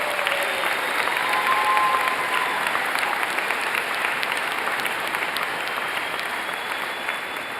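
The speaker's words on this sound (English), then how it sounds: "Let's give them all another round of applause." Sustained applause for graduates at a university commencement ceremony, a broad, even wash of many hands clapping from a large crowd, steady and continuous throughout.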